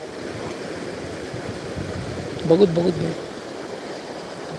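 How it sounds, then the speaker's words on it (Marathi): Floodwater released under a debris-choked bridge in Nandeds heavy rain rushes in a steady broad roar, with a voice briefly speaking over it. "पाण्याचा विसर्ग"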